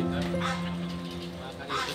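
A pet dog named Bruno gives a few short, fairly faint yips and barks outdoors beside a new concrete path, mixed in with background noise.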